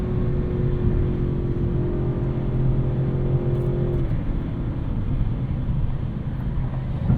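A 2024 Audi RS7 Performance with a twin-turbo V8 kicks down in S mode, its engine rising into a deep, steady roar heard from inside the cabin over road and wind rumble, a tone shift midway as the gear changes.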